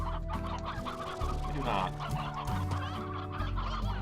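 Stony hens in the Slime Rancher video game cluck in a busy overlapping flock, steady throughout and fairly loud, while a player briefly speaks over them.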